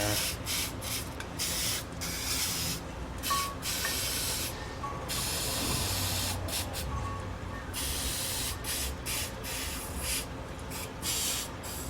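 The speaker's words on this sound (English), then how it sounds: "I need something that's aggressive that you can spray on there." Repeated hissing bursts of an aggressive cleaner sprayed from a bottle onto a pressure washer part, each spray a few seconds long with short pauses between, close and fairly quiet, no talking.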